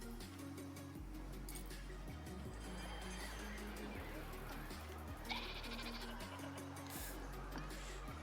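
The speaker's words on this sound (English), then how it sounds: "They even make goat noises" Goats bleating in a zoo enclosure in the video game Anno 1800, repeated calls over a steady loud game soundtrack with low rhythmic music throughout.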